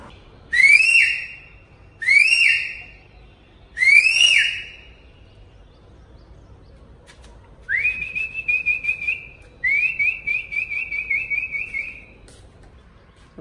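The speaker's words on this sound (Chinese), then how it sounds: "我们现在看一下吹口哨，" A person whistles to call back a pigeon: three short rising whistle bursts, then two longer sustained warbling whistles, loud and close against a quiet outdoor background.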